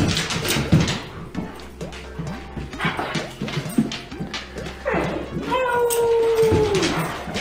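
A New Guinea singing dog howls in long rising and falling tones, loudest near the end, over background noise with scattered talk from a played video.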